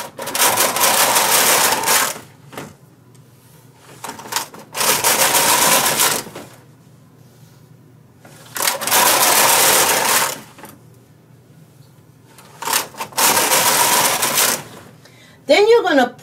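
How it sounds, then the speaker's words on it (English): A White Magic Knitter knitting machine knits rows of yarn in four loud bursts of carriage travel, each about two seconds long with brief pauses between them, and a short rising whir at the end. "You're going to lay the yarn over the needles and knit the 4 rows."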